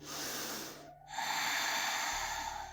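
A long, deep breath drawn in during a yoga session, a soft airy rush that pauses briefly and then continues as a steady, close intake, quiet and with no speech.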